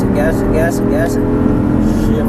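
A race car accelerating hard around a track, its engine revving loud and close in a steady, rising drone while a voice speaks over it.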